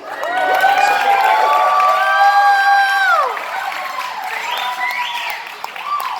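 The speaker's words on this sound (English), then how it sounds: "let's give him a nice round of applause" Wedding guests applaud with loud cheering and whoops during a best man speech, the clapping mixed with rising and falling shouts that ease off after a few seconds.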